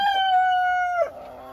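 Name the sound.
chickens clucking and crowing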